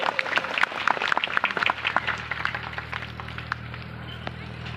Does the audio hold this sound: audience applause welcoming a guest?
yes